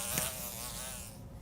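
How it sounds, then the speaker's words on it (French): A housefly buzzes steadily and close by inside a cramped enclosed box buried underground, a thin, droning whine that fades slightly near the end, with no voices. "Je rêve où il y a une mouche"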